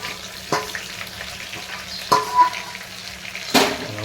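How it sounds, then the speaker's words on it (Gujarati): Vegetables coated in masala, with whole onion, are stirred in a pressure-cooker pot over a steady frying hiss, with a few distinct scraping knocks of the spoon against the pot, close by. "હવે તેને વ્યવસ્થિત હલાવી નાખીએ આપણે"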